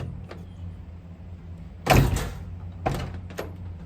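The rear door of a Ford E350 van slams shut with a solid thud, followed by a second, lighter clunk of the latch a moment later, close and loud over a quiet background.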